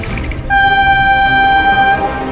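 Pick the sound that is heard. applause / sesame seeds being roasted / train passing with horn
train passing with horn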